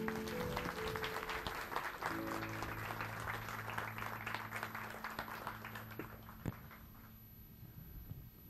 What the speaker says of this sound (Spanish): Démosle un gran aplauso al Dios de la vida.